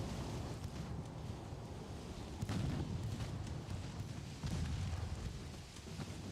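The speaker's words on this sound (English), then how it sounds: "Württemberg, go ahead and fire at the Cairo." Naval guns fire at a cruiser in a dreadnought-era battleship game, a low rumbling wash of distant boom-like bursts at a few points over a steady, noisy roar of wind and sea.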